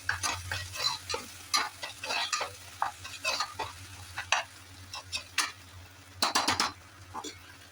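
Onions sauté for a Chettinad chicken gravy as a spatula scrapes the pan in quick repeated strokes, rhythmic clattering stirs over a low sizzle and hum, close and fairly loud.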